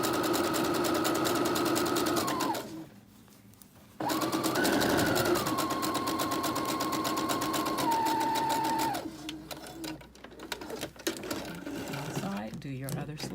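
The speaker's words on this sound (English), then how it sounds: "you're just going to sew around the lower edge of your sleeve in that long stitch" A sewing machine runs a long, loose stitch around the lower edge of a sleeve, a steady close mechanical whir that pauses briefly, restarts and shifts pitch, then falters into uneven clatter near the end.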